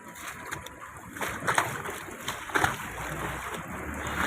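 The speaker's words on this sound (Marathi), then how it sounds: "बघा एवढ्या पाण्यातून जातोय" Someone wades through deep floodwater in a town street, producing soft repeated splashes and sloshing surges at a close distance over a quiet background.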